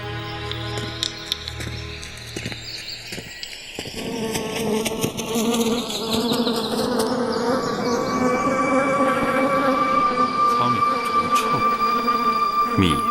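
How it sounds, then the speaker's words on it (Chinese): Flies buzz around at close range in a remote wild spot, a continuous droning whine whose pitch rises and falls as they circle and pass near, loud and steady with no talking. "这苍蝇怎么干起蜜蜂的活计来了"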